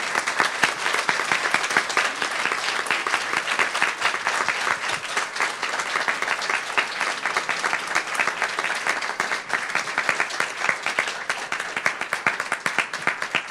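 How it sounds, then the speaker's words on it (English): An audience at a tenement museum talk on LGBTQ refugees breaks into sustained applause, a dense, even wash of many hands clapping that continues steadily throughout at moderate loudness. "Give them a round of applause"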